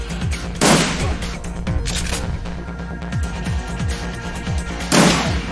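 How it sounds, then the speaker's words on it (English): A street sweeper shotgun fires in a video game, a few loud, sharp blasts, spaced well apart, over a busy background of game sound and music. "My handy dandy street sweeper shotgun."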